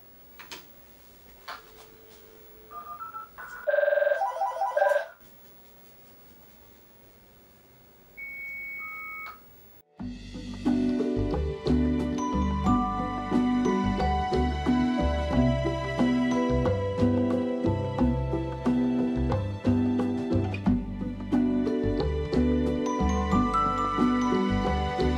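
SSM Hayes-compatible modem answering a phone call, with a few beeps and tones followed by a loud, dense burst of modem handshake noise that continues to the end.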